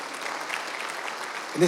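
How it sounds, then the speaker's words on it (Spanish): Church congregation applauding together: a dense, steady wash of clapping from many hands, continuous and fairly loud, with a voice rising briefly at the end. "Denle un fuerte aplauso al Señor"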